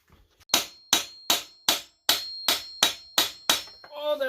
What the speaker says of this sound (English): we're going to tap it a couple of times to see if it'll just come loose